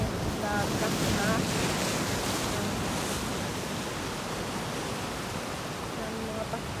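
Big ocean waves crash and wash continuously on a Bermuda beach, a loud, broad roar with wind buffeting the microphone throughout.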